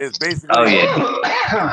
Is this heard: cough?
yes